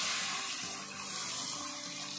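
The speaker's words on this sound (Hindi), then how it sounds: "ये तकरीबन मैं 4 गिलास पानी की डाल रही हूँ।" Water poured steadily into a cooking pot holding browned goat trotters, a continuous close splashing rush with no talk.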